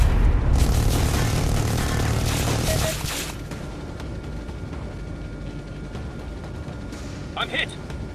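Destroyed targets exploding in the Air Corp VR flight game on Meta Quest 3, a heavy rumbling blast roar for the first few seconds that fades into a lower drone, with a brief beeping tone near the end.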